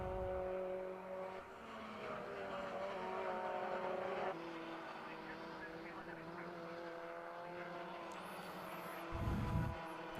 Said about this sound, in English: This gaggle of cars here that make up the bulk of this battling pack.